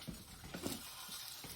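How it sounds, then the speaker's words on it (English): A pork chop sizzles in a frying pan in a home kitchen, a faint, steady crackle with a few soft clinks and stirring sounds and no talking. "You can hear that pork chop sizzling in the background."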